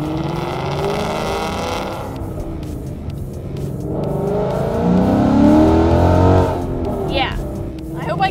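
A 2015 Ford Mustang GT with long-tube headers and a Corsa Extreme catback rumbles from inside the cabin, a deep exhaust drone that swells as the car accelerates, with someone talking over it.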